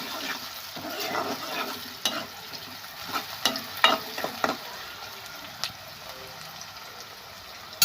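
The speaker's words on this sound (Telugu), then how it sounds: "ఇప్పుడైతే ఆనియన్ కూడా వేసుకుందాం. ఒకసారి అయితే కలుపుకుందామండి." Onions dropped into a hot pan and stirred, giving a steady sizzle of frying with repeated clinks and scrapes of the spoon against the pan at close range.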